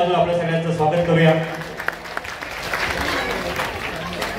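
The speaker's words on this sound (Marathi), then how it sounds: "एकदा सगळ्यांनी या कार्यक्रमासाठी, आपल्या सगळ्यांसाठी एकदा जोरदार टाळ्या वाजवून आपल्या सगळ्यांचं स्वागत करूया." A crowd at a rural village get-together and felicitation event starts clapping partway through, a dense spreading patter that follows a stretch of amplified talk and continues to the end.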